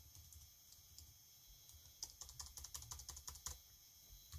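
A command being typed on a computer keyboard while setting up a serial console connection to a Raspberry Pi, with a quick run of light, close key clicks in the second half after sparse taps, no talking.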